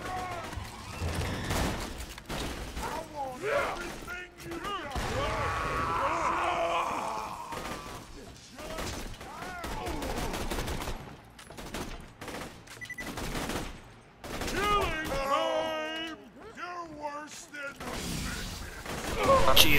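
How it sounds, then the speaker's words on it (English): Automated turrets in Borderlands 2 fire rapid bursts of gunfire under almost constant talking and groaning from players, with shots coming in repeated volleys. "No, they just started shooting me when I shot it."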